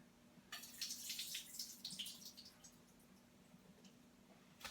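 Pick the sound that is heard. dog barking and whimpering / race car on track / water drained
water drained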